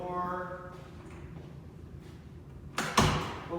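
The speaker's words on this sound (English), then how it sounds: "Close the door." A door closes with a single firm thud near the end, fairly close, after a stretch of quiet room noise with faint tones early on.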